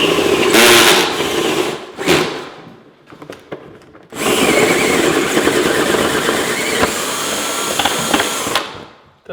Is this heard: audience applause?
no